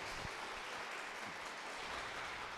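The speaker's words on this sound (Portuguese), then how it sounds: "Vamos aplaudir o Senhor Jesus" A church congregation applauds in steady, dense clapping that fills the room at a moderate level throughout, with no speech.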